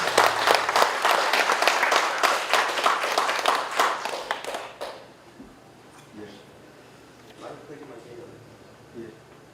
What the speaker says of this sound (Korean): 여러분 뜨거운 격려의 박수 부탁드립니다.